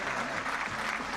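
Crowd at a T20 Vitality Blast cricket match between Leicestershire Foxes and Nottingham Outlaws applauds a departing batsman, a steady wash of clapping from the stands at moderate distance.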